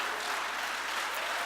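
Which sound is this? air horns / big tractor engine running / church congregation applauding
church congregation applauding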